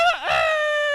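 A human voice imitates a rooster crowing, a single loud, drawn-out cock-a-doodle-doo call with a rising then sustained tone, heard alone and close.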